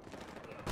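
Gunfire in the video game Battlefield Hardline, a brief run of rapid shots with a dense rumbling body and a fresh sharp blast at the very end.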